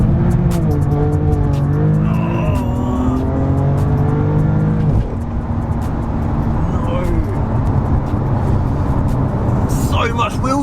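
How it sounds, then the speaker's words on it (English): A BMW M4 CS with a Stage 1 tune launches hard, its engine roaring loud and close as the revs climb in steps while the tires spin and squeal, with a brief break midway and a voice talking over it. "So much wheel spin."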